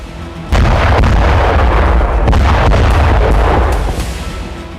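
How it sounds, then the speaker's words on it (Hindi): A bridge blown up by a Ratel ground drone in Donetsk gives a sudden loud blast, followed by seconds of sustained roaring rumble and crackling debris that slowly fade. "यूक्रेनी फोर्स ने रातेल ड्रोन से इस पुल को उड़ा दिया।"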